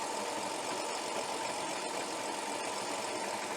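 A Cobra Fortis 17E battery-powered cylinder mower cuts fine grass into its grass box, giving a steady, even whirring hum from the spinning reel, constant and close with no breaks.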